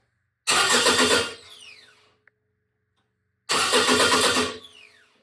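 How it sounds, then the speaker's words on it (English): Two bursts of a starter motor cranking a car engine after its wires were switched, each about a second long with a whirring, grinding churn, separated by a pause and a small click. "the engine will spin over"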